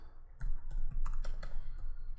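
Typing on a computer keyboard while entering a MongoDB database command: a quick run of close, crisp key clicks in an uneven rhythm, about a dozen taps over two seconds with no speech.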